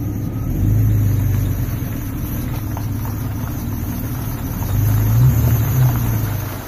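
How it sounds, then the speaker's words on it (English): A Jeep Cherokee XJ engine idles with a loose fan belt, a steady low rumble with a faint whine rising briefly near the start and again toward the end, continuous and close. "I gotta tighten that fan belt."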